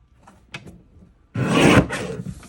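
A paper trimmer slices through yellow cardstock in one short, loud, rasping cut, preceded by a few quiet taps and shuffles as the sheet is positioned, close up with no talking.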